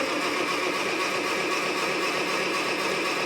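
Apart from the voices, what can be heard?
International tractor engine cranking and trying to start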